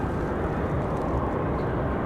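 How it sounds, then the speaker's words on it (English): American Airlines Airbus A321 airliner at Raleigh-Durham International, a steady, loud broadband jet engine roar holding evenly throughout with no pauses. "We've got another A321 from American Airlines."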